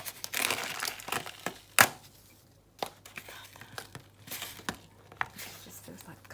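Paper-like wall covering being peeled and torn off a bedroom wall during a house renovation, with a loud rip near the start and several shorter crinkling tears, close by and alone with no talk.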